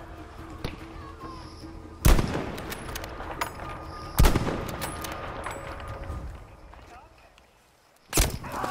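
Gunfire in a hardcore multiplayer shooter game, using the Karg and Jorgensen guns: three sharp, loud shots spaced a couple of seconds apart, each with a ringing tail, amid game ambience and faint talk.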